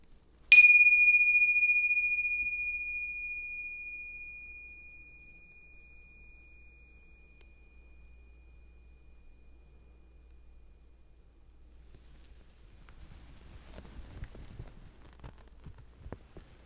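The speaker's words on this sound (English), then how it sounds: "I'm going to ring this bell, and I want you to try to notice the exact moment it starts and the exact moment it stops" A single bell is struck once and rings clear and bright, then slowly fades over several seconds into near silence, with faint rustling toward the end.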